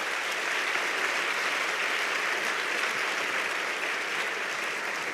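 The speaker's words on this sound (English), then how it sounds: "I think they deserve another big round of applause." A big audience applauds at the World Health Summit 2024 signature event for the WHO, producing a dense, steady roar of clapping that stays loud and even throughout.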